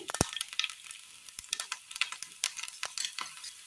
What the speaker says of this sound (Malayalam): ഒരു പാൻ അടുപ്പത്ത് വെച്ചതിന് ശേഷം അതിലേക്ക് അല്പം വെളിച്ചെണ്ണ ഒഴിച്ചു കൊടുക്കാം കടുക് വെളുത്തുള്ളി